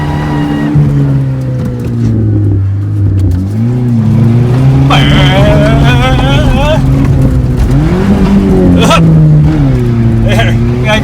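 Loud engine revving and a climbing whine from a Ford F150 Platinum with the 3.5 EcoBoost and an MBRP exhaust driven hard in reverse, with tire squeal over it and excited shouting throughout.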